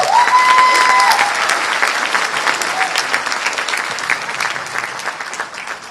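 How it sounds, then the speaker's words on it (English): Audience applause fills a conference hall after an investment announcement, steady clapping from a large crowd throughout, with a brief tonal chime near the start. "So let's give a big round of applause to Shop."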